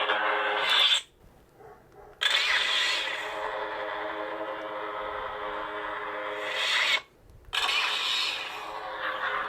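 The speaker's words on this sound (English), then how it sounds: "Scavenger ignition is kind of like Ray's blade. It kind of just sparks a green at the bottom there and then lights up." Artsabers Darksaber lightsaber on its scavenger ignition setting: a loud buzzing, crackling ignition hum runs steadily, cuts out briefly, then reignites twice more, each startup snapping back in at full volume with no talking.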